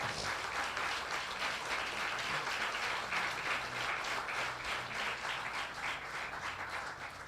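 A church congregation at a Spanish-language sermon breaks into sustained applause, a thick, even wash of many hands clapping at moderate volume with no talk over it.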